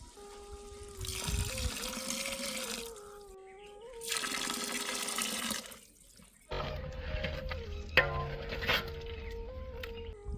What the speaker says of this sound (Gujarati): હવે મિત્રો નાખી દઈશું આપણે 2 થી 3 ગ્લાસ પાણી.